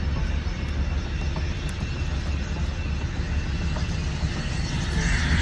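A fixed-wing airplane comes in to land at an airport in Texas on a short, wet runway, its engines giving a continuous loud roar throughout with no voices.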